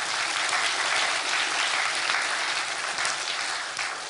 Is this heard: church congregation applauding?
yes